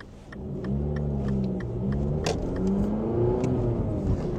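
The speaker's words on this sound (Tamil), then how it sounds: "3rd கியரில் போகிறேன். நல்ல இன்னும் பிக்கப் இன்னும் பிக்கப் பண்ணிக்கொண்டே இருக்கிறார்." A 2007 MINI Cooper Clubman engine pulls through third gear from inside the cabin, a moderate rising hum with a couple of brief dips as it keeps picking up speed.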